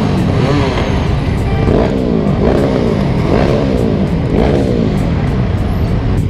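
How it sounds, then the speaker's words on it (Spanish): Motorcycles of many kinds at the Distinguished Gentleman's Ride in Madrid, several engines revving loudly in repeated rising and falling bursts close by, one rev after another. "Hay motos de todo tipo"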